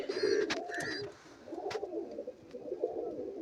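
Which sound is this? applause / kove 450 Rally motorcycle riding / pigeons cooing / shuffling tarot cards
pigeons cooing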